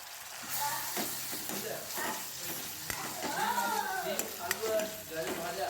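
Ginger-garlic paste, chili and spices fry in a pan after browned onions for a prawn dish, a close, steady sizzle with stirring scrapes, while someone talks over it.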